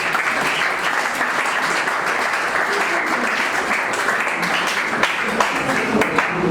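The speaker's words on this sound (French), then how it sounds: "Applaudissez pour ces femmes." Sustained audience applause for a group of women at a training ceremony, dense and steady clapping from a crowd filling the space, with a few sharper individual claps standing out near the end.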